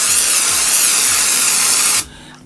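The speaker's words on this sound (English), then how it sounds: "You need deodorant. So I spray that on." Deodorant spray hisses onto an underarm in one steady, close, loud burst lasting about two seconds, then cuts off abruptly into quiet.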